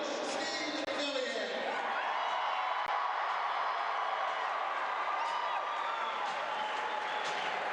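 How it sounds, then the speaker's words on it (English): A gymnasium crowd at a high school Section 8A basketball championship roars and applauds for Red Lake County's longtime head coach, a dense sustained swell of clapping and cheering that stays loud throughout. "listen to the roar of this crowd for longtime head coach Steve Fillion here in just a second"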